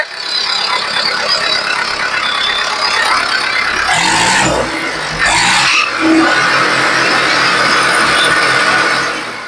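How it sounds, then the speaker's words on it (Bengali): A Mahindra Arjun 555 tractor engine, a 2021 model, idles steadily and loudly nearby, with a rattling mechanical hum and a brief squeal partway through. "ঠিকই আছে, ইঞ্জিনের সাউন্ড ভালোই আছে।"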